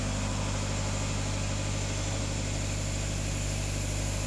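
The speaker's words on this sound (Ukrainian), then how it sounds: "Автомобіль сам газує." A VW Passat B8 2.0 TDI diesel engine runs on its own with a steady, even drone and low rumble throughout, heard close with no one speaking.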